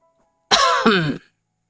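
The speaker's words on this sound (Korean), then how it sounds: "우레와 같은 헛기침을 몇 번이고 뱉으시며 불편한 심기를 숨기지 않으셨습니다." A single loud, rasping throat clearing, close by, in two quick pushes after a moment of silence.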